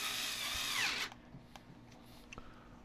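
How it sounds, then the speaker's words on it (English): An electric screwdriver drives a bolt while a used Tronxy 3D printer is converted to a VzBoT: a close, steady motor whir for about a second, then it stops, leaving faint clicks and handling noises. "So I'm going to use my electric drill for this one. Electric screwdriver, I keep calling it a drill."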